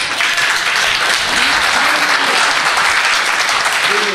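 An audience at a poetry gathering (mushaira) bursts into loud, sustained clapping, a dense steady wash of applause that fills the whole moment.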